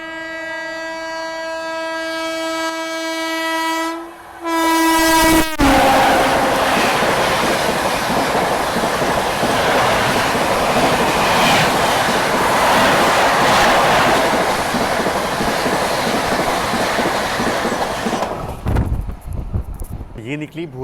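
The Bhubaneswar Tejas Rajdhani Express sounds a long, loud horn blast, then thunders past close by with a sustained roar and rattling wheels for over ten seconds before abruptly fading.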